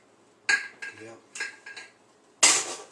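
Ingredients stirred in a pan to melt them while searing top sirloin steak: a series of short metallic scrapes and clinks of a utensil against the pan, close and fairly quiet, ending in a louder scrape.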